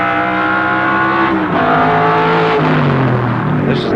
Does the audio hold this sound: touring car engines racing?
yes